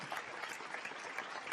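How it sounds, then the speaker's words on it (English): Steady applause from a crowd, a dense wash of clapping that continues evenly throughout without pause. "Let's give that a round of applause."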